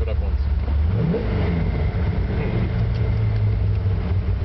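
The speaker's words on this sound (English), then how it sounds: "rev it up once" A 1966 Chevrolet Corvette roadster with a rebuilt engine is revved once, its rumbling idle swelling briefly into a rising roar before settling back into a steady, close, loud throb.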